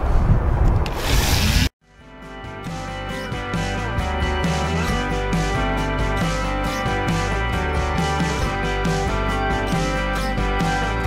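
Sandpaper rubbing over a painted surface for a chippy paint effect, a brief burst followed by a short silence, then continuous close scratchy strokes in a steady back-and-forth rhythm, with no talking.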